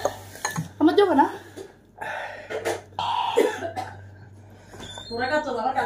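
Someone coughs repeatedly while eating very spicy Buldak ramen, with dishes and cutlery clinking and voices talking in between.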